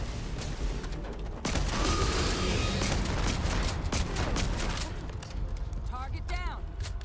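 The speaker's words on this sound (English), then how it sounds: "You don't like the old Earth shotgun," Old Earth shotgun blasts in the video game Starfield, loud booming shots over a dense layer of combat noise and game effects, with brief metallic sounds toward the end.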